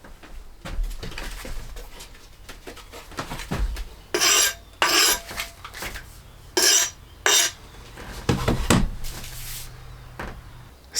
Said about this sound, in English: Now all that's left to do is to sharpen the hatchet.